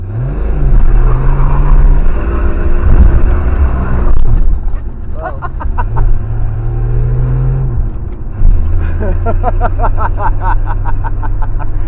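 A budget hot rod drives around the block, its loud engine rumbling and rising and falling through gear changes. People talk throughout.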